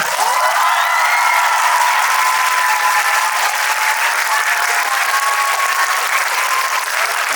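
Audience applause at a film screening Q&A, loud, dense clapping from a large crowd sustained evenly from start to finish, with a faint tonal whine running underneath.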